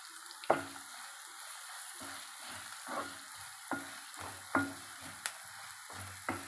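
A pan of okra fry with flaxseed powder sizzles steadily as a spoon scrapes and stirs through the food in repeated strokes, close up with no talking.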